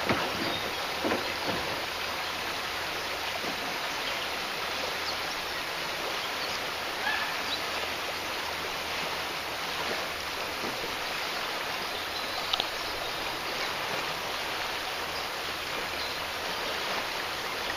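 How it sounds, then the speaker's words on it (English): Rushing water of the Swatara Creek rapids during a paddling trip, a steady broad roar of moving water all around that runs on unbroken without speech. "Going down the Swatara Creek Rapids."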